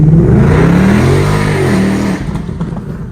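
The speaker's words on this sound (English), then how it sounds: "But obviously, if you want to spin the tires," A high-performance car accelerates hard and spins its tires, the engine note climbing loud and close before fading away over about three seconds.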